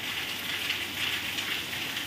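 Rain falls as a steady, close, crackling hiss with no break and no talking.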